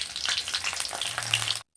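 Dried red chilli, green chilli, cumin and five-spice tempering frying in hot oil, a short crackling sizzle with sharp pops that cuts off abruptly.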